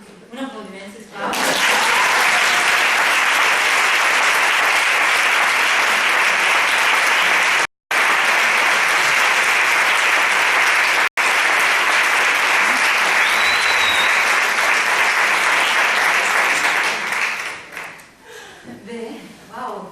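Loud, sustained applause from a large audience at a women's leadership event, a dense steady wash of clapping lasting most of the time with two brief cuts, fading out at the end.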